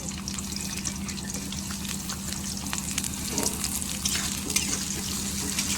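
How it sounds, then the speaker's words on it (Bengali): Onion and green chilli fry in hot oil with bay leaves, a steady dense sizzle running throughout with faint stirring crackles, close and continuous with no talking. "পেঁয়াজটা একটু ভালো করে ভেজে নেবো লাল করে।"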